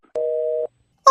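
A single steady telephone tone plays loudly on speakerphone for about half a second as a call cuts off, then a voice starts right after.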